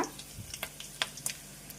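Whole spices, peeled garlic, dried red chilli pieces and asafoetida frying in hot oil for a gongura chutney tempering, a quiet sizzle broken by scattered crackles and pops close by.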